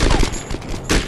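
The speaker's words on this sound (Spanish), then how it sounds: "¿Nos disparan desde dónde," Gunfire in the Iraq-set shooter game Conflict: Desert Storm 2, a dense burst of several loud, sharp shots fired close together, briefly easing then flaring again near the end.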